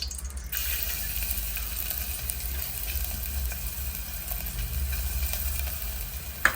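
Finely chopped garlic sautés in hot ghee for veg momos, giving a soft, steady sizzle over a low background hum, with a brief clink near the end.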